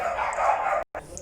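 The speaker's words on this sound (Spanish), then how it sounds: "una disculpa por los ladridos" A dog barks in a short burst close by, with a brief pause before another yelp.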